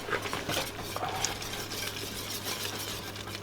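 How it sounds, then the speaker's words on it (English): Cornmeal is whisked into boiling meat stock in a pot, a steady close wash of swishing and light scraping with faint clinks of the whisk against the pan, no voices. "So now you're just adding the cornmeal to the boiling meat stock. Whisking it in as I go to make sure it's smooth."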